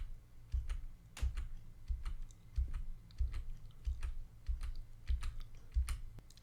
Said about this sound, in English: I'm going to cycle through all of the stations in the DRC using the down arrow on the keyboard